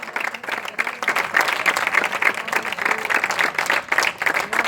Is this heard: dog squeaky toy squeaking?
no